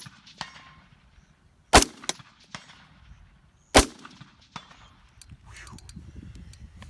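Two sharp, loud rifle shots from a rifle fitted with a Primary Arms SLx 5x prism scope crack a couple of seconds apart outdoors, with faint clinks and rustling between them.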